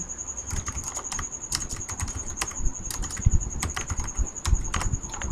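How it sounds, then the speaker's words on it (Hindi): Rapid close-up clicking of a computer keyboard during data entry into an Excel spreadsheet, with irregular keystrokes and occasional louder taps over a faint steady electronic whine. "कस्टमर का नाम टाइप किया"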